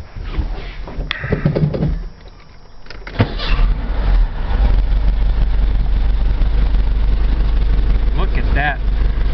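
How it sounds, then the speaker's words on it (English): A 1904cc Volkswagen engine with a Solex 34 PICT-3 carburetor cranks briefly, then catches and settles into a steady, loud low idle around 800 RPM that runs continuously to the end. "Let me start up the engine so you guys can hear it run."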